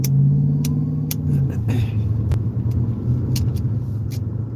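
A Mustang passing close by, its engine a loud low rumble that swells and then holds steady as it goes past, with no voices over it.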